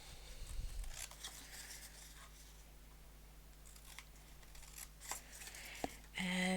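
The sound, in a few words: scissors cutting out boxes from a paper card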